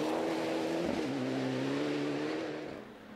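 A Peugeot 206 rally car drives hard on a forestry stage at the Moonraker Forestry Rally 2012, its engine note loud and sustained, with a pitch change partway through as it shifts gear, fading slightly at the end.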